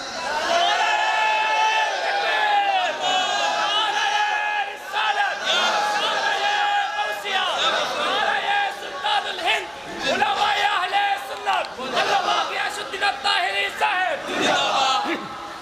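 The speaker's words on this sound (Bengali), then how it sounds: "একটা স্লোগান লাগান" A large crowd at a Bangladeshi religious sermon (waz) shouts a slogan in unison, loud and sustained, with repeated surging bursts of many voices over about fifteen seconds.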